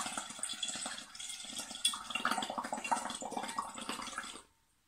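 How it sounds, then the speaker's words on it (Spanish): Air blown through a straw into a glass of water, making continuous bubbling and splashing for about four and a half seconds, close and fairly loud, then stopping abruptly. "Cogemos todo el aire y lo vamos a soltar a través de la pajita y vamos a ver las burbujas que se forman en el"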